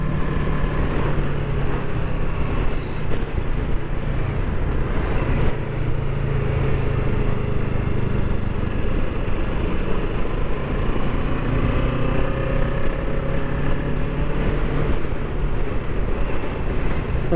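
Kawasaki Ninja 650 motorcycle on the move, a continuous loud engine drone mixed with heavy wind rush across the microphone as the rider changes down and slows on engine braking.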